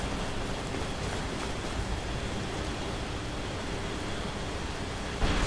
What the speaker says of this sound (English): It's raining inside.